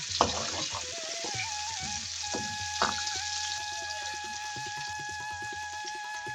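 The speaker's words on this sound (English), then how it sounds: "you want to give everything a nice mix, and you want to fry the chana till golden" Boiled chana sizzling steadily in a hot pan with oil, with occasional stirring scrapes and clinks, close and continuous at moderate loudness with no talk.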